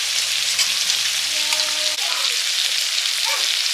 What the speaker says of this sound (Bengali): করলা আলুটা তুলে নিলাম, মোটামুটি ভাজা হয়ে গেছে